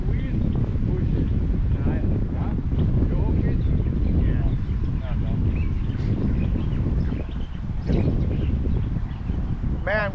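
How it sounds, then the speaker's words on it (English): Strong wind buffeting the microphone on the 17th hole, a par 3 at West Loch golf course, a loud, continuous roaring rumble throughout with faint bird calls and people talking underneath. "Damn wind. I think the wind pushes."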